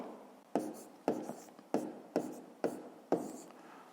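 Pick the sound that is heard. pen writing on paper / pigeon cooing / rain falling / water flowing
pen writing on paper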